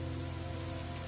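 Rain falls steadily and densely, loud and close, with a continuous hiss of drops striking surfaces and no voices.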